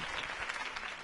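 A crowd applauding after a campaign speech, a short burst of dense, even clapping heard from across a hall.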